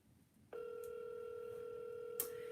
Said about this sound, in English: Gino, you gotta pick up the phone, bro.